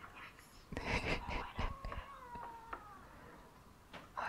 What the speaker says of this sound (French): Pour le prochain déclencheur, j'ai ramené mon petit chat.